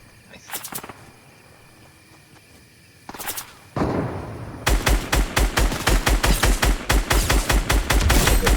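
Gunfire in the Fortnite Battle Royale video game: a couple of isolated shots early, then a loud, rapid burst of evenly spaced automatic fire filling the final few seconds.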